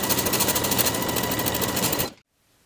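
Sewing machine running steadily while edge stitching along the upper inner fold of a pant-leg hem, a fast even mechanical whir that continues for about two seconds, then stops abruptly into silence.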